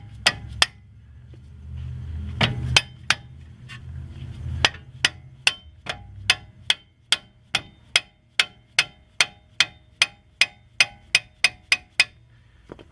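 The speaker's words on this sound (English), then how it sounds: "just gentle taps with a hammer will help you rock that off." Hammer tapping a Ford Ranger front brake caliper: sharp metallic knocks, a few loose strikes at first then a steady, evenly spaced run of about twenty close, loud taps with brief ringing.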